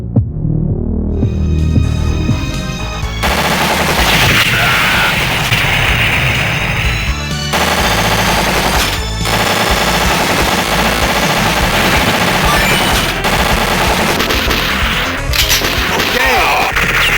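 Dense, loud arcade gunfire and explosions from the run-and-gun shooter Metal Slug played on a Neo Geo CD, with rapid repeated shots and crashes layered over game music throughout.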